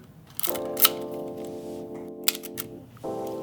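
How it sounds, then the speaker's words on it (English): A couple of soft mechanical clicks over a faint whirring hum, quiet and close, a Canonet QL17 GIII 35mm film camera's shutter firing and advancing. "It's got a very silent shutter."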